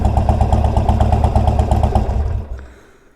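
A tuned Harley-Davidson Forty-Eight with a new exhaust idles in a loud, loping, uneven thump close by, then the engine shuts off and dies away into quiet near the end.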